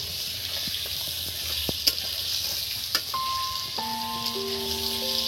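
Pointed gourd (potol) fries in a pan with a steady close sizzle while a utensil stirs it, giving a few sharp scrapes and taps, and a faint electronic tone sounds near the end.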